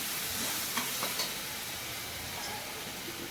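Ginger, green chili and garlic paste sautéing in a pan for vada pav, a soft, steady sizzle with a few light clinks of a spoon against the pan, fairly quiet and close, no voices.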